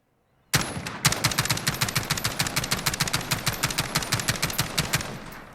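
A rapid, loud series of HK433 battle rifle shots in Call of Duty Modern Warfare, fired on single-fire by quick tapping, evenly spaced sharp cracks continuing for about five seconds with no talk.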